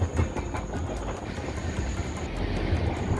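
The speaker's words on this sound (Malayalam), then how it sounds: "ഇപ്പോഴാണ് ട്രെയിൻ വന്നത് റോഡിൻ്റെ ഒരു ഡബ്ല്യു പി സെവൻ ആണ്" A passenger train hauled by a WP7 locomotive rolls past Munroe Island railway station, a steady broadband rumble with faint rhythmic wheel clicks and a thin high whine, sustained and moderately near throughout.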